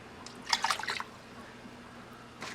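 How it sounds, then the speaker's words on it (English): Water splashes and trickles from a can of diced chilies into a slow cooker in a short burst of pouring and dripping, with a faint later drip over a quiet kitchen background. "I'm gonna put a little water in the can just to get every last bit of flavor"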